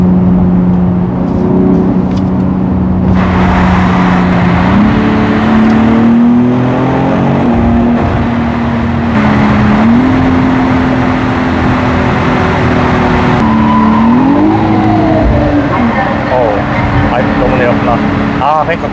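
A BMW X4 M Competition engine revs hard through rising and falling pitches, climbing in steps as it pulls to high RPM, loud and close, with voices talking over it.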